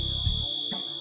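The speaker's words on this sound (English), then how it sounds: "A first alarm is sounded." A computer-room fire protection system sounds its first alarm, a steady high-pitched electronic tone held continuously over a low background rumble.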